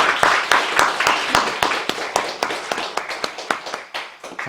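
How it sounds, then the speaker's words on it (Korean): A church congregation claps during a Sunday worship service, a run of sharp distinct claps that starts dense and thins toward the end, close and fairly loud with no talking. "다시 한번 박수 한번 했으면 좋겠습니다."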